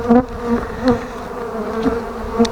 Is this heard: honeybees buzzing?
yes